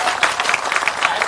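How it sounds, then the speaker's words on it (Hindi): A crowd applauding at a Jan Suraaj political meeting in Tarari, Bihar, with dense overlapping handclaps at a lively, steady pace, fairly loud and close throughout. "ताली बजा रहे हैं।"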